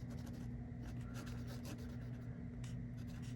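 A Lamy Safari fountain pen with a fine nib writes on paper with faint, soft scratchy strokes in short bursts over a steady low hum.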